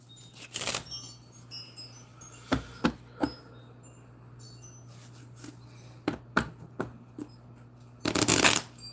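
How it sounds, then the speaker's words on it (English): A deck of cards is shuffled close by in a quiet room, with scattered riffles and taps and a final loud, dense riffle at the end. "I'm shuffling"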